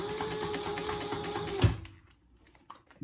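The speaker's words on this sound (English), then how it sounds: "I'll sew from this side. We're just gonna sew that opening that we left closed through all those" A sewing machine stitching the opening of a lined boxy bag closed through several layers, a fast steady mechanical chatter that stops abruptly, followed by a few quiet handling clicks.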